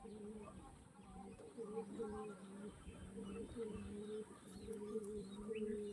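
A female pigeon coos in a soft, low, repeated murmur that continues steadily, faint and a little distant beneath room noise.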